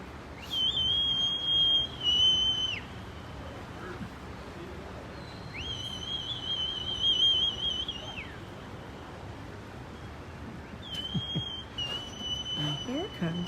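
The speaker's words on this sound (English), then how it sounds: "There's probably where the whistling's coming from." Long, steady high whistles repeat three times, each held for a couple of seconds, heard faintly at a distance over low background noise and voices, near the Roman theatre in Cartagena, Murcia.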